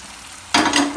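Coriander leaves hitting hot fat for coconut milk ghee rice, a sudden sharp burst of sizzling after a quiet half second, close and loud.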